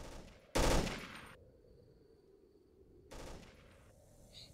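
Two short bursts of gunfire in the Emergency 4 game with a U.S. Army mod, loud and clipped, separated by a couple of seconds of near quiet.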